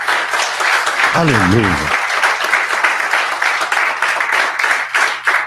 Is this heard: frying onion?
no